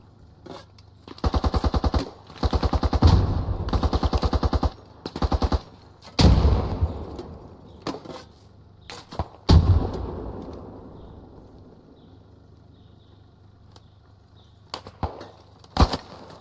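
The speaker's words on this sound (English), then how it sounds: "they're definitely shooting at us" Automatic and single-shot gunfire in the military shooter game Squad, with rapid rhythmic bursts and loud sharp cracks, some near and some farther off, scattered across the scene with no talk.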